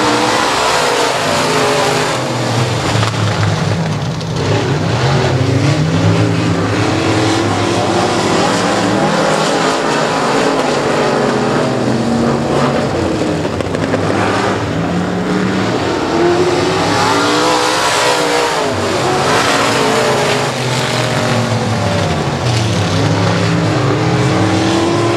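Race cars roar through a six-lap heat at Boothill Speedway, a dense, continuous wall of loud engine noise with rising and falling revs as the pack circles the track.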